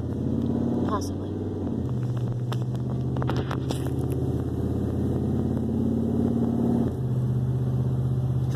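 A truck drives along with a steady, loud engine drone, its pitch stepping up and down as the gears shift, the motor note carrying throughout.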